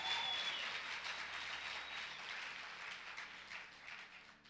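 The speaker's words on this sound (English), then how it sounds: "clap your hands and give God some praise" Church congregation clapping and praising God during a sermon, a soft, distant wash of crowd applause that holds steady and slowly fades.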